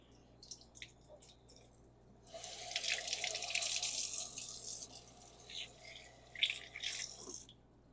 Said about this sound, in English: hopefully this water won't be too noisy